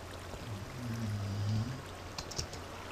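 Water flows in Minecraft as a soft, continuous wash with a low burbling tone, joined by faint clicks from gameplay.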